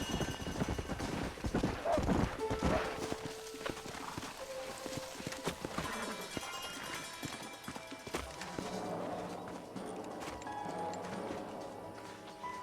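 Horse hooves clip-clop in Red Dead Redemption gameplay as riders approach an old house, a busy rhythmic patter mixed into game sound effects and music, moderately loud throughout.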